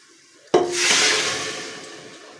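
Water poured into a pot of browned masala rice with garam masala, a sudden rush starting about halfway through, then a steady hissing splash that slowly fades, heard alone.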